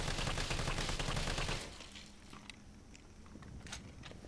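Gunfire in Resident Evil 3, a dense burst of rapid shots for about a second and a half, then quieter scattered clicks and taps alone.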